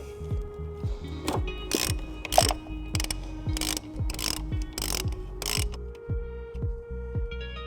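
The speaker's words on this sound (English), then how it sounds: "we're gonna go ahead and take a 15mm socket and we're going to take off our nut on the battery terminal" A 15mm socket ratchet loosening a battery terminal nut on a 2013 Dodge Journey, giving a steady series of quick clicking pawl strokes, close and fairly quiet, with short pauses between bursts.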